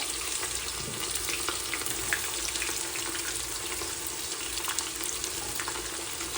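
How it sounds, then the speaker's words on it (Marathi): Sliced onions frying until brown with cinnamon in a cooker for Maharashtrian chicken dum biryani, a dense, continuous hiss of hot oil, close and steady, with faint stirring. "चांगला ब्राऊन होईल तर कांदा फ्राय करायचा"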